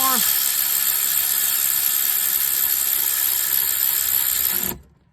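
A power tool snugs up bolts while a transmission is reassembled: a loud, continuous whirring drive that holds steady for about four and a half seconds, then cuts off abruptly.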